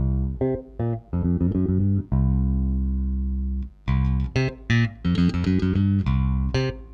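An electric guitar with its tone control turned down plays with a darker, muffled tone: a long held chord between bursts of short, punchy notes and chords, loud and up close.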